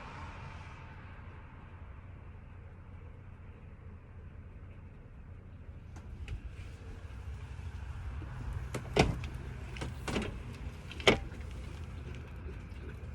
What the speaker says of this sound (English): I can hear the pump running, which is good